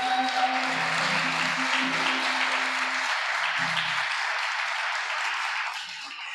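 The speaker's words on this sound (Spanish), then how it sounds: "Démosle un fuerte aplauso a nuestro Señor Jesucristo." A church congregation claps together in a sustained, fairly loud burst of applause lasting several seconds, then tapers toward the end, with faint voices and a brief sustained tone underneath.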